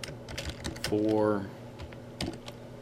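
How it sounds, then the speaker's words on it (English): Typing on a computer keyboard, a steady patter of close key clicks running under a voice and a brief electronic tone. "that is not what I was typing in"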